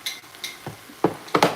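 Noodles for a Bengali-style dish being stir fried in a pan, with a few short scrapes and clatters of a utensil against the metal plus a light sizzle, heard in irregular bursts close by.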